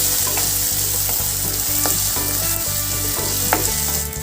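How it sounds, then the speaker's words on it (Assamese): Tomatoes fry in hot oil for a chicken curry, giving a loud, steady sizzle with faint stirring knocks close by and no talk. "এতিয়া মই বিলাহীখিনি ভালকৈ গলি পেলাই যোৱালৈকে গোটেইখিনি ভাজি ল'ম"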